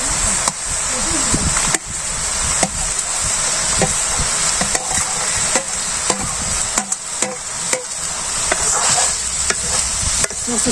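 Small fish sizzle as they go into a pan of frying water lilies (shapla) for a village-style curry, with steady loud frying hiss, stirring clatter and occasional sharp utensil knocks throughout.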